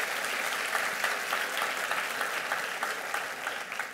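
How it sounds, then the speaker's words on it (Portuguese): Soft, steady applause from an audience at an evangelical gathering, a continuous patter of many hands clapping at a distance for a few seconds with no talk over it. "Bom, pode aplaudir a Jesus mesmo."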